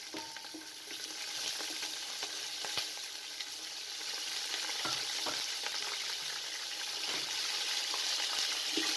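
Chicken pieces frying in oil with lightly browned onions and whole spices over a medium flame give a steady, close sizzle with scattered stirring clicks and scrapes; no one speaks.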